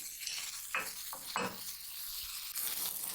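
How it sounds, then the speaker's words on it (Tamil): Chili flakes sautéing in a pan on a low flame: a soft, continuous sizzle with a few scraping stirs of a utensil against the pan, close and quiet. "இதெல்லாம் லோ ஃப்ளேமில் ஒரு 30 செகண்ட் வணக்கி விட்டுருங்க"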